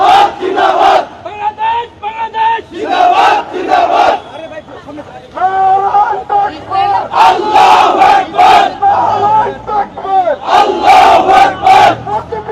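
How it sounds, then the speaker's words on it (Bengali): Crowd of protesting traders at Bashundhara City complex in Karwan Bazar, Dhaka, chanting slogans against Israel in loud rhythmic unison, voices rising and falling in repeated call-and-response bursts throughout. "তারা কিন্তু এই মুহূর্তে ইসরায়েল নিপাত যাক এ ধরনের স্লোগান দিচ্ছেন"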